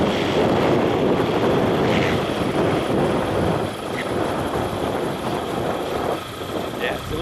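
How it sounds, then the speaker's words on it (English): An Evolution Revolt weight-shift trike aircraft flies slowly at the Sebring Expo, its engine a steady broadband drone that fades slightly toward the end, with a voice talking over it. "Evolution Aircraft showing its slow flight."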